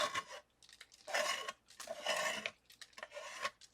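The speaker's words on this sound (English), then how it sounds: "grab your scraper, and just scrape it right into the garbage" A scraper rasping crusty dried paint off palette paper into a garbage can, several close, loud scraping strokes in bursts with short pauses between.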